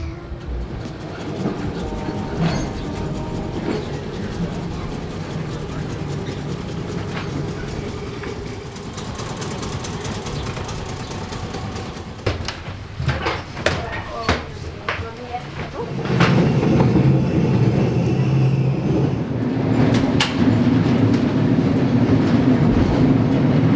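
A tram in Christchurch, New Zealand, rumbles along its rails with rhythmic clicking and clattering, growing louder and heavier in the last third, with no talking.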